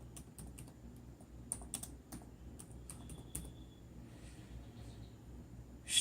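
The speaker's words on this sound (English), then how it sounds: "Here I will type" Fingers tap out short runs of keystrokes on a computer keyboard, quiet and close, with scattered clicks over a low background hum.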